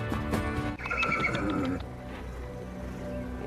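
A horse neighs loudly and close by, a shrill quavering whinny that rises and falls for about a second, with faint hoof clops and low background noise before and after.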